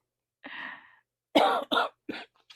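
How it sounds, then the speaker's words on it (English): One person nearby gives a soft, drawn-out throat clear. A rapid run of short, harsh coughs follows, then two fainter ones. "I just tend to start coughing and coughing"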